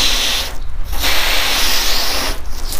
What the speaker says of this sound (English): I'm going to spray this down and show you exactly what I'm talking about.